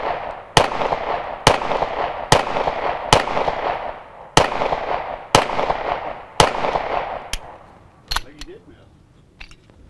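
Nine-millimetre pistol shots fired at a ceramic body-armor plate, about nine sharp, loud reports spaced roughly a second apart with ringing echo tails outdoors, tapering off into quieter clicks.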